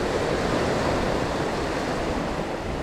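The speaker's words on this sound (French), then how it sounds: "Et là, avec les vagues qu'il y a, c'est pas possible." Sea waves breaking on a rocky fishing shore, a steady loud roar of surf and churning water with wind noise, continuous and close, with no voices.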